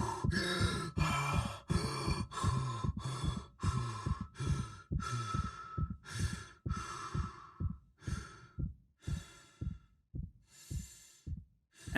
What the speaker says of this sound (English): you can expect to hear Isaac catch his breath as he recovers from a lack of oxygen